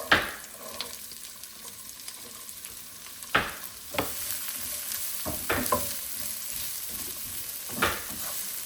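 Onions frying in oil with ginger and garlic, a continuous sizzle broken by several sharp scraping stirs of a spoon against the pan, close and clear with no voices.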